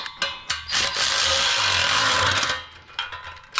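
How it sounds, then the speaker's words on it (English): An electric ratchet runs in a continuous whirring burst of about a second and a half, tightening an 11/16 nut in a home garage. Shorter clicks and rattles come before and after it, close up and loud. "we're using the electric ratchet just to make everything a little bit quicker"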